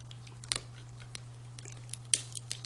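A blade cuts through a rattlesnake's hard, dry tail rattle on a cutting board, giving a few faint, sparse crunching snips over a steady low hum.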